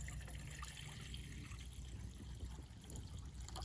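Water is poured steadily into a pot at a minimal cot-and-tarp campsite, ready for boiling an MRE-style meal. A faint, continuous trickle plays under outdoor background hiss.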